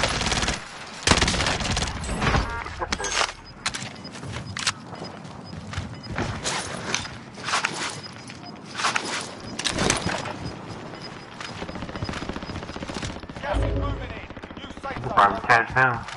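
Gunfire in the video game Warzone, repeated bursts of automatic rifle fire and sharp single shots at varying distances, interleaved with players talking over the action.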